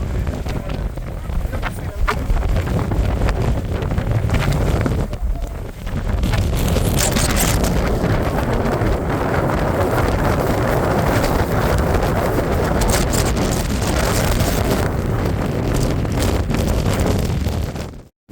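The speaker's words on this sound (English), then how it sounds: "I don't know whether you can hear me, but it's a little bit windy." Strong gusts on an open ridgeline pound the microphone with heavy, roaring low buffeting that runs almost unbroken for eighteen seconds, easing briefly once before surging back and cutting off abruptly.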